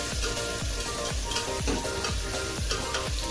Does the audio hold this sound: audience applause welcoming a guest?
no